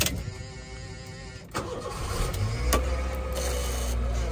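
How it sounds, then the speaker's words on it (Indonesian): A used Honda Jazz hatchback in a car showroom starts up: a brief starter whir and crank, then the engine catches and settles into a steady, even idle, close and alone. "nah kita akan coba starter aja"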